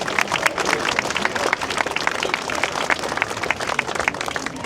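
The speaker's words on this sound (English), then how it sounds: "So please give them all a round of applause." Outdoor crowd applause for event staff at a 1940s-themed people's parade in Sheringham, a continuous, fairly distant patter of many hands clapping steadily throughout.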